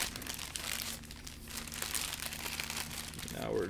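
Plastic bag filled with epoxy being handled, with close, continuous crinkling and rustling of the plastic under a faint steady hum.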